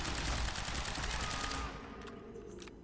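Rapid pistol gunfire in the video game Quantum Break, a fast rattling burst of shots for about a second and a half that abruptly stops, followed by a few faint clicks.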